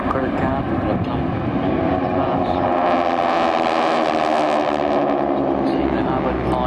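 A World War II propeller aircraft engine drones loudly and continuously at an airshow, a heavy rumbling roar that holds steady with a slight rise and fall in pitch.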